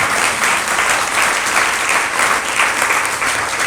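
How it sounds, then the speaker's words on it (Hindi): An audience at a Hindi sermon on austerity claps loudly and continuously, a dense, even wash of applause filling the hall. "आपकी तालियां ऐसी बज रही हैं जैसे चटपटी फोड़ रहे हैं।"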